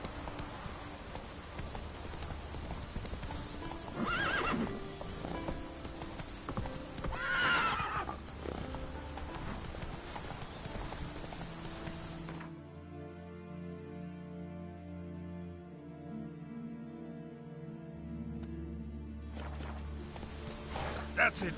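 Roach, the horse in The Witcher 3, clip-clops along with game hoofbeats and gives a couple of whinnies, mixed under game dialogue and music that cuts out partway and returns near the end.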